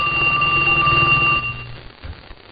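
A telephone rings on a call placed to a home, a steady electronic bell tone for over a second that then cuts off, leaving quiet line noise.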